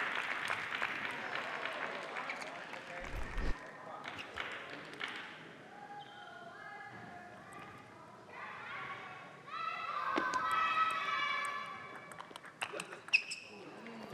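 A crowd at a Bay Area vs. Texas pickleball match reacts to a close point with a swelling murmur of oohs and scattered claps, following a run of ball taps and bounces while a commentator talks.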